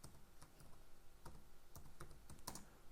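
Quiet, fast typing on a computer keyboard, a run of light, irregular key taps close by with no talking.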